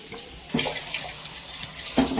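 Dried red chillies dropped into hot oil for a Pallipalayam chicken gravy, a continuous close sizzle with a few louder splashy bursts, no talking.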